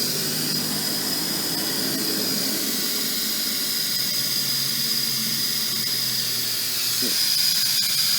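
A reverse bleeder vacuum tank sucks old brake fluid through the clutch system of a 2004 Ford Focus, giving a steady loud airy hiss with a thin high whine running throughout, close to the microphone.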